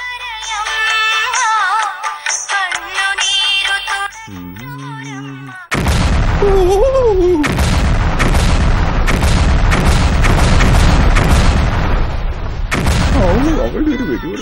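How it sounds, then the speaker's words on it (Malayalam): Firecracker bursts set off as a temple offering ring out as a string of loud, sharp booms in quick succession, following a stretch of music, with a voice speaking faintly beneath. "എന്നാലും ആ ഒരു വെടി പൊട്ടിയ ഏത് വഴിപാടിനുള്ള വെടിയായിരിക്കും?"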